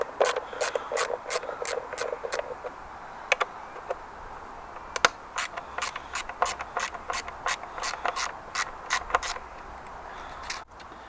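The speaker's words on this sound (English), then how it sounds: "just undo these two bolts here for the cover for the core packs" Ratchet undoing T30 bolts on the coil pack cover of a Mini R55–R58 engine, close, crisp rapid clicking in bursts with short pauses between, no talking.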